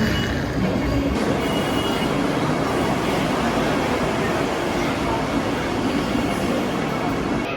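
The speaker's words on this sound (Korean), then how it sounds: "자, 기차 들어왔습니다." An Indian express train arrives at a station platform, a loud, sustained rumble and clatter of rolling cars with a wash of station noise, and someone talks over it.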